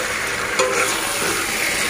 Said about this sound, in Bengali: আলুটা দেওয়ার পরও ভালো মতো কষিয়ে নিলাম